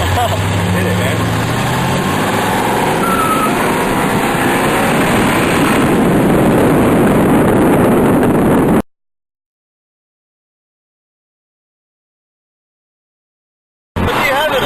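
Turbocharged four-cylinder Eagle Talon accelerating hard in a street race against a Corvette, a loud continuous engine roar with wind rush captured from inside the car, before the sound cuts to silence and briefly returns.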